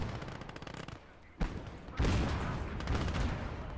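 Machine gun fire in Call To Arms: Gates of Hell, a rapid fusillade of bursts with a sharp crack near the start and heavier sustained firing afterward over battle noise.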